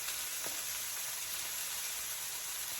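Meat searing in a hot pan, a constant soft hiss and crackle held at an even, fairly quiet level with no pauses or talking.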